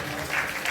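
A church congregation breaks into brief, dense applause, a steady wash of many hands clapping at close range, alone without voices.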